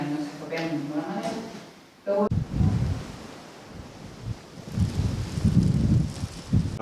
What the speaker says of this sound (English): Oh, still very windy up here,